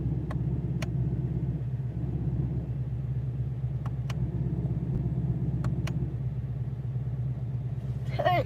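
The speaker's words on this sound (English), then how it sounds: "No, that's the exhaust." A car's factory exhaust rumbles low and steady at idle, with a few sharp clicks on top and a brief voice near the end.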